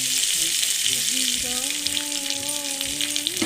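White cooking oil frying in a pan gives a continuous close sizzle and hiss, while a faint tonal hum drifts underneath for the short stretch.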